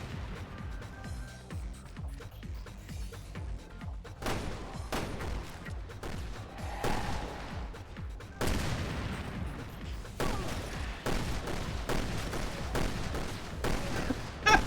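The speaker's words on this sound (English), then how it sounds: "We were firing like in rhythm." Gunfire in Resident Evil Revelations 2, with repeated sharp shots spaced in a loose rhythm, some doubled, fairly loud over a low game background.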